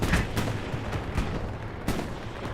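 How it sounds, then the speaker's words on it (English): Strafing run gunfire on Utah Beach in the World War II shooter Hell Let Loose, several heavy booming bursts of impacts over a rumbling battlefield din, fairly loud and somewhat distant. "Strafing run on its way."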